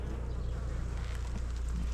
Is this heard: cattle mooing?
no